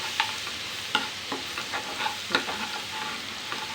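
Ginger roasting in hot oil for homemade pav bhaji sizzles steadily, close by, with a spoon stirring and scraping the pan in a loose rhythm.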